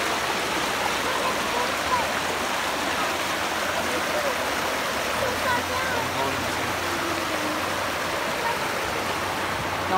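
A small mountain waterfall and stream flow steadily, a constant broadband rush close by that fills the whole stretch without a break.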